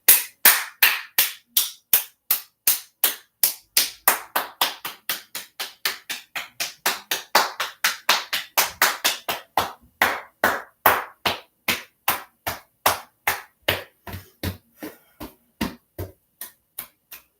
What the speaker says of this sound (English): you can use more of a palm, cupped palm like that. Makes a nice sound.